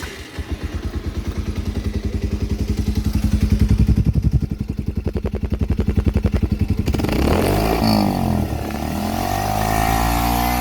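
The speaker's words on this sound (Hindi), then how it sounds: "मैं आपको एग्जॉस्ट नोट सुनाता हूँ।" A Bajaj Pulsar 125 BS VI motorcycle idles close by with a steady pulsing exhaust thump, then revs up into a louder, rougher exhaust roar before settling back into a steady rumble.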